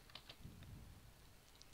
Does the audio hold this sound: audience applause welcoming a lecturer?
no